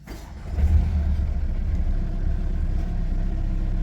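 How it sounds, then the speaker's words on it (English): A Mercedes-Benz A180d W177 diesel, carrying a fuel-gauge fault, cranks and catches, then settles into a steady low idle rumble close by with no talking. "So I'm going to start the vehicle and see."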